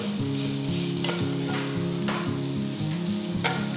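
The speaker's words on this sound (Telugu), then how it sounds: "నెక్స్ట్ నేను ముందుగా తురిమి పెట్టుకున్న మామిడికాయని వేస్తున్నాను." Grated raw mango tipped into a hot tempering with curry leaves in a pan, giving a loud, continuous sizzle and frying hiss with a few stirring scrapes and no voices.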